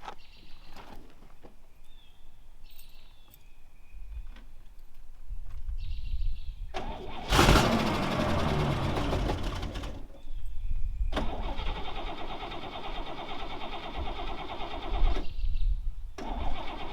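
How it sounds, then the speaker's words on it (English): A 1963 Cadillac Coupe DeVille is cold-started. A few clicks lead into a loud burst of cranking, then the engine catches and settles into a steady, close idle that runs to the end. "We'll do a quick cold start for you and see if she cooperates."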